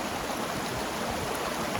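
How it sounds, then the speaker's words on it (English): River water flows in a steady, even rush of broadband noise, close and continuous, with no breaks or distinct splashes. "Mark's exploring the river."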